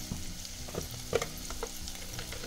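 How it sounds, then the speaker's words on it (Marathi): An aubergine and potato curry with turmeric and tomato is sautéed in a pan, with a low steady sizzle broken by scattered scrapes and stirring knocks of the spoon against the pan. "आणि मस्तपैकी सगळंच परतवून घ्यायचं"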